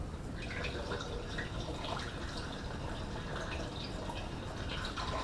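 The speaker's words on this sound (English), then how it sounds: "In goes the water." Water poured into a fermenting elderflower and orange champagne mix, a steady, faint wash of splashing and trickling liquid that continues evenly throughout, with no talk.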